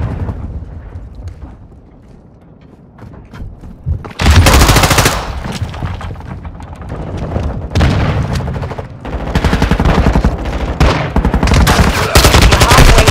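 Gunfire in Call of Duty: Modern Warfare II erupts after a quieter stretch of rumbling ambience. Loud automatic bursts and heavy shots then follow almost continuously, with short gaps between volleys.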